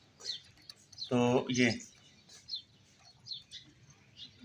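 Small birds building a nest give a few faint, high chirps scattered across the moment, with a short burst of a nearby human voice in between.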